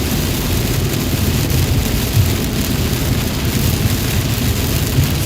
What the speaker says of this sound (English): Seems like the rain's picking up a little bit.